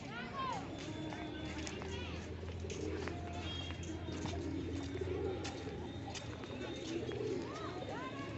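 Pigeons coo at a Shiva temple in Sivasagar, soft repeated low calls over steady outdoor ambience with occasional chirps and a faint murmur of voices.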